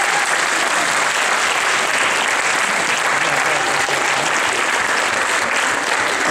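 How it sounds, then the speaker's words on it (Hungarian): Sustained audience applause at a children's and youth folk dance festival award ceremony, dense steady clapping from a large crowd filling the whole stretch without pause. "Még kell a taps, mert hosszú a kérdés."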